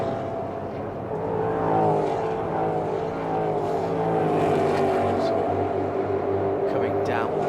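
Ford Mustang Challenge race cars roar around the Charlotte Motor Speedway Roval, a continuous loud engine drone with shifting pitch as cars run close together, under a commentator's talk.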